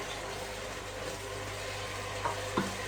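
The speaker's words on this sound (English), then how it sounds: "My onions is burning and my peppers will be following soon" Onions and peppers frying in a pan alongside chicken, a steady close sizzle with a couple of small pops near the end, no talking.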